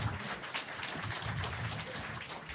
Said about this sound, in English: round of applause to all the panelists over here